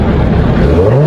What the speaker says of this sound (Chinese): 这个排气声浪，我认为已经非常不错，因为它是一个4出排气，而且带有消音